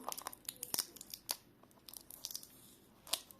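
Close, crackly tearing of packing tape in short bursts, crinkling and ripping sounds scattered over a few seconds, fairly quiet.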